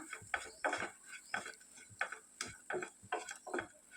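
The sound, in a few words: stirring garlic coconut powder in a pan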